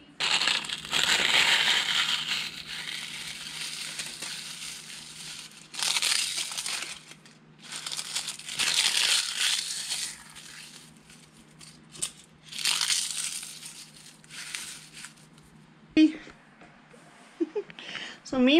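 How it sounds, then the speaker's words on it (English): Dried grape leaves being crinkled up by hand before going into a container for tea, a close, dry crunching and crackling in several bursts, with a person talking in between. "I'm going to crinkle them up a little bit and put them in a container"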